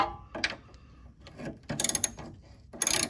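Ratcheting clicks from a wrench with an extension tightening the bottom 14 mm bolt on a 2007 Hyundai Sonata rear stabilizer sway bar, heard as several close bursts of rapid metallic clicking between quieter handling noises.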